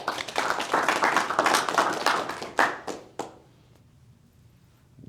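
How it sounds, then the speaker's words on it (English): Dense applause from a crowd of many hands, steady for about three seconds, then tapering into a few scattered claps before fading to quiet. "Okay, applaud."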